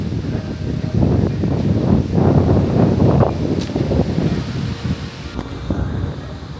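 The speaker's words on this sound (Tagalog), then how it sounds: "Lakas ng hangin" Strong wind buffets the microphone in loud, rumbling gusts, rising and easing over several seconds, with faint rustling in the background.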